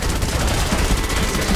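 Rapid gunfire in the Fortnite Save The World video game, a dense, continuous burst of loud shots with no pauses, filling the whole stretch.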